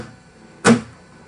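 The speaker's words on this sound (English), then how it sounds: "I'm hitting the strings, then muting them. You got to do it at the same time." Percussive chuck on an acoustic guitar with open chords, strings struck and muted at once by the right hand, giving one short, dry, close thump in an otherwise quiet room.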